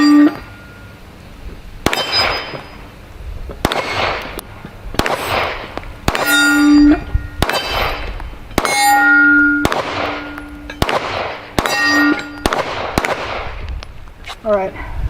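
Repeated gunshots from a PSR40 firing with an OEM Glock 17 magazine, about ten sharp, loud cracks spaced a second or two apart with metallic ringing, outdoors at close range, with voices between shots.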